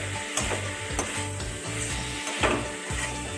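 Spice paste for cabbage and potato fries over medium-high flame, a constant sizzle broken by rhythmic scraping strokes of a spatula against the pan, close and steady.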